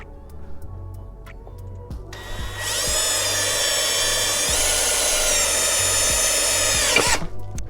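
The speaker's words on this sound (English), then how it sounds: "We're gonna drill it, and then we're gonna tap it." A power drill bores into a brake booster hose fitting on a flat surface, whirring steadily and loudly for about five seconds between faint clicks and handling noises, then stopping abruptly; nobody speaks.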